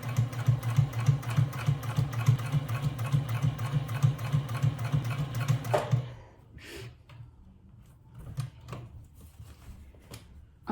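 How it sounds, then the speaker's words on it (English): A sewing machine back stitches fabric for a hobo bag, humming with a rapid needle rhythm for about six seconds before stopping, followed by a few faint handling clicks. "let's go to the sewing machine. As you can see here, I'm at the sewing machine. I'm starting here on the side, and I'm going to start back stitch"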